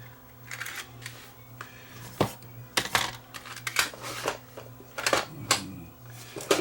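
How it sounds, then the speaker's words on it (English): Mechanical clicks, clunks and whirring as the tape is swapped in a TASCAM DAP1 DAT recorder, with a cassette being ejected and inserted, near and irregular over a low steady hum, no voices. "We'll just change the tape to one I can play."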